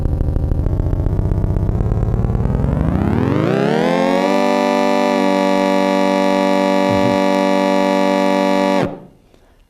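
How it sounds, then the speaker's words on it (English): A loud mechanical siren winds up from a low growl to a high steady wail, holds the pitch for several seconds, then cuts off abruptly. "So sirens were the most important instrument, scientific instrument in the early days of sound"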